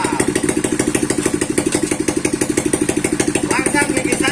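A wooden log crane's engine runs at a steady idle, close and loud, chugging in a fast even pulse with a slight rise in roughness near the end.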